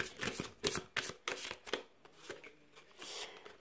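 Tarot cards shuffled and drawn during a five-card reading, a quick series of soft riffling slaps and flicks in close bursts, then quieter card handling.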